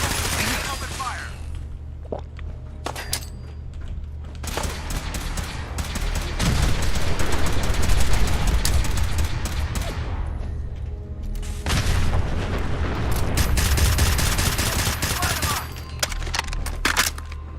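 Sustained heavy gunfire and booms in a Fallout 4 firefight, loud and dense with bursts of rapid shots in two long waves and brief lulls between, voices calling out under the din.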